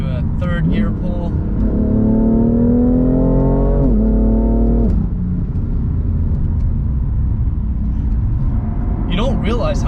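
A BMW M3 CS pulls hard in third gear, the engine revving steadily upward in a loud rising whine that cuts off at the shift, with the driver talking over the engine noise inside the cabin.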